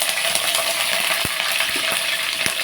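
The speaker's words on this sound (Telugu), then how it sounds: "ఆయన హీట్ ఎక్కింది కదండి ఇప్పుడు మనం ఇందులోకి పచ్చిమిర్చి వేసేసుకుందాం" Green chillies hit hot oil in a pan with a loud, dense sizzle and crackle, broken by several sharp clicks and taps of a utensil.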